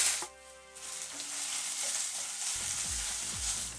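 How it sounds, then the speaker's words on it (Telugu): Squeezed snake gourd pieces sizzle and crackle in a hot pan, a steady frying hiss with occasional stirring scrapes, close and fairly loud, no voices. "పొట్లకాయ ముక్కల్ని వేసుకొని వేపుకుందాం"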